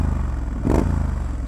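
A Triumph Scrambler motorcycle engine runs through its stock high-pipe exhaust, a close, beefy mid-pitched thrum with a brief swell of revs in the middle, alone without speech.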